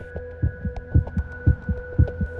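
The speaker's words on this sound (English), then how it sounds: "Those who have heard this abomination say that it makes a heartbeat sound." A steady heartbeat sound effect thumps in regular double beats, about five pairs, loud and close over a low constant hum.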